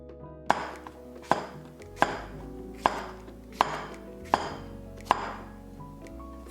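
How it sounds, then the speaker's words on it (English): A knife chopping vegetables into bite-sized pieces on a cutting board for a vegan Japanese breakfast, seven crisp, evenly spaced thuds in a slow steady rhythm, close and clear with no talking. "Then chop it into bite-sized pieces."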